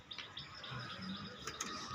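Birds chirp and twitter at a pigeon farm in Nabadwip, with several quick calls scattered through a quiet, steady background.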